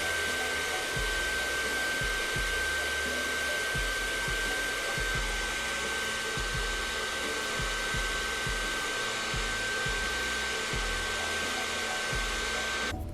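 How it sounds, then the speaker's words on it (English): A blow dryer and a blow dryer brush run on a blonde frontal wig, a loud steady whooshing whine with a constant tone, broken by regular low thumps and rustles as the brush moves through the hair. "for the swoop, I'm using a blow dryer brush and a blow dryer basically."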